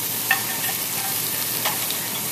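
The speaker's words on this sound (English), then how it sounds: "So what I'm going to do now is just mix them up a little bit" Potato wedges being mixed around on an oven tray, faint scraping and shuffling over a steady hiss, with a couple of light clinks.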